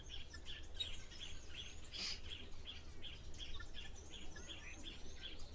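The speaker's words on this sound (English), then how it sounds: "You can hear the guinea fowls calling in the background." Guinea fowls call at a waterhole as faint, distant, repeated chirping notes over a steady low background, with one sharper call standing out briefly.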